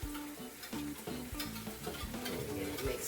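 Broth being stirred into a pot roast with vegetables inside an Instant Pot, a steady close wet scraping and sloshing with soft clinks of the spoon against the pot, continuous for a few seconds with no talking.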